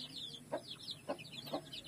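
Young chicks on a farm make faint, repeated soft clucks and peeps at a steady pace, with higher chirps layered over them at low volume.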